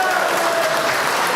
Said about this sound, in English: And you can hear the crowd here in Bethany